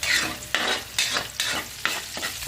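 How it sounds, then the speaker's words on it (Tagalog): Garlic and onion sautéing in a hot pan, a steady sizzle broken by rhythmic scraping strokes of a utensil roughly every half second, close and clear with no talking. "Ayan, anuhin lang natin yung bawang at sibuyas."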